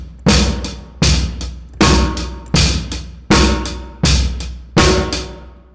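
A basic drum kit groove of bass drum, snare drum and hi-hat, bass drum on beats one and three, played alone as six steady, loud, evenly spaced hits with ringing decay.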